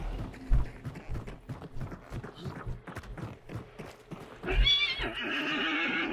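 In the video game Hunt: Showdown, hooves clatter in a rapid uneven rhythm before a horse lets out a loud, shrill whinny near the end, with mechanical game sounds underneath.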